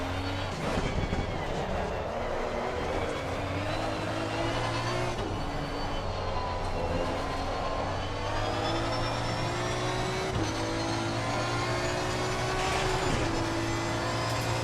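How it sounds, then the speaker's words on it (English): Race car engine from a racing simulator game drones steadily at high revs, with occasional thumps and shifts as the car bottoms out coming onto the straight; a person talks over it throughout. "the car's bottoming out quite a bit there, coming onto the straight"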